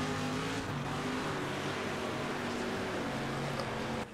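A dirt-track race car at Sterling in the World of Outlaws video game holds a continuous buzzing engine drone with steady harmonic tones, loud and unbroken throughout.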